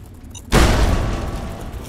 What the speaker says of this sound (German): auf dem ist eine Mine explodiert.